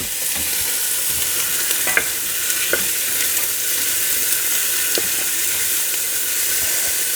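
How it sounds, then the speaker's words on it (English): Steady, loud sizzling of onions frying in hot olive oil in a pot, with a few faint clinks and stirring scrapes over the constant hiss. "if it starts to sizzle, then I know that my olive oil is warm enough"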